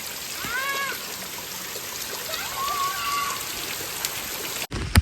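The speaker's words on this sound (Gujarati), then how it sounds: "પહેલો વરસાદ છે" First rain of the season falling steadily as a broad, constant hiss of drops on surfaces, with faint bird calls over it; the sound cuts out sharply near the end.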